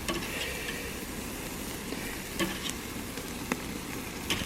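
Steak searing on a 22-inch Weber kettle grill with a Slow n Sear, a constant low hiss and crackle with occasional faint pops and clicks from the grate, at moderate distance and without talking.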